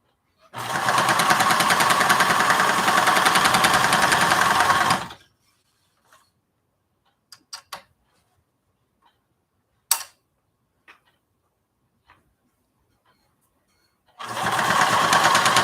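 A sewing machine stitching a project bag runs steadily and loudly for a few seconds, falls quiet with a few faint clicks and taps, then starts whirring again at the end.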